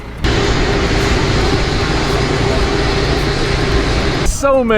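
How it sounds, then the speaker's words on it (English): Big jet airplanes departing at Zurich Airport give off a loud, steady roar throughout, cut off near the end by a brief voice. "All the big airplanes going out right now."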